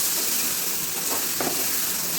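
Sugar and garlic paste frying hard with browned onions for a chicken curry, a steady bright sizzle throughout with a couple of brief stir-like bursts near the middle.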